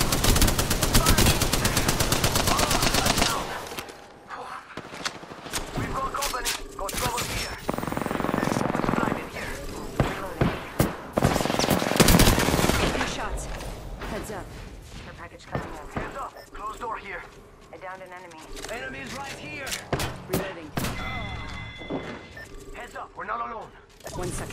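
Automatic weapon fire from a light machine gun in the Apex Legends shooter game, loud sustained bursts and rapid volleys with shorter sharp shots later, mixed with game effects and a voice calling out.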